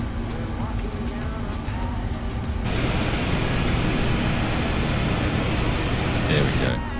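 Airbus Beluga taxiing in Microsoft Flight Simulator 2024, a steady loud jet engine hum and rush that swells partway through and holds, close and continuous.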